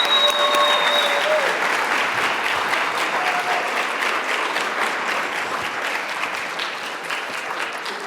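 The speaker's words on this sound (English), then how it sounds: "help me thank and applaud Mitch Resnick and Natalie Russ, and also Gail Breslow" An audience at a network address event applauds, a dense, sustained clapping from a large crowd that stays full and steady before easing slightly toward the end.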